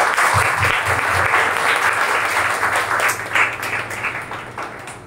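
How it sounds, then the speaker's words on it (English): Parents in an audience applaud a speaker at an English-confidence speaking event, a dense, steady wash of many hands clapping close and loud, continuing for several seconds and easing slightly toward the end. "please clap for GAUTAM sir"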